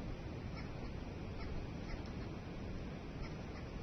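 An arrow-marked babbler calls at Thornybush Nature Reserve in the morning, a faint, repeated harsh chattering set against a loud, steady background rush.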